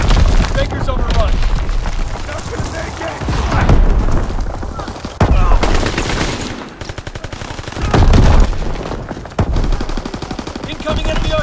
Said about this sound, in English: Incoming enemy artillery! Get to cover!